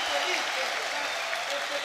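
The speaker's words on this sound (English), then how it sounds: "the crowd has been super receptive" Dense crowd noise from a Dota 2 LAN event at the Lima Major playoffs: steady applause and cheering fill the clip at an even level, with a voice speaking over the din.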